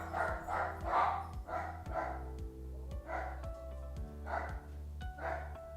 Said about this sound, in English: That's my doggy. He loves to bark.